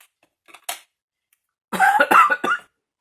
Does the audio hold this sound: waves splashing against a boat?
no